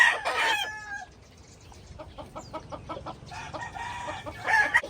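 Chickens cluck in quick, repeated calls, with louder squawks at the start and end.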